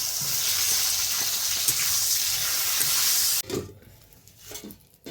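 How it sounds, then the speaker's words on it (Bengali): Flat beans frying in hot oil in a wok make a loud, dense sizzle for about three and a half seconds, then the noise cuts off abruptly, leaving faint scattered clinks and bubbling. "এবার এই কড়াইতে তেল দিয়ে দিয়েছি বন্ধুরা এই তেলে সুন্দর করে আমি এটা ভেজে নেব"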